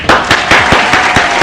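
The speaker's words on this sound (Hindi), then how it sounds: "जोरदार तालियों से स्वागत करते हैं हर्षवर्धन औरंगाबादी।" A crowd at an Independence Day poetry gathering gives a poet a loud, close welcome of clapping, strong beats landing in a quick, fairly regular pulse over a dense roar of hands.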